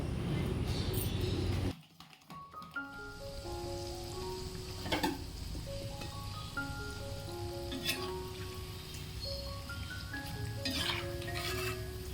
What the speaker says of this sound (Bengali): আমি এখন তালটা ফেটিয়ে নিচ্ছি